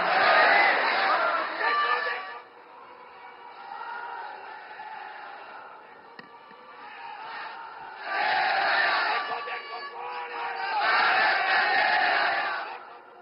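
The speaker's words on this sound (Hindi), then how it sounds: "आइए जोरदार तालियों के साथ आमंत्रित करते हैं" A large crowd at an outdoor public event in Gujarat cheers and roars in swelling waves, with a loud burst at the start and again toward the end, and chanting voices mixed in.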